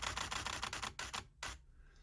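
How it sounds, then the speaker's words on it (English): A DSLR camera shutter fires a rapid nine-shot bracketed burst at speeds from 1/1000 s to 1/4 s, with crisp evenly spaced clicks that stretch out and slow toward the end, then stop. "when we press and hold the shutter release button,"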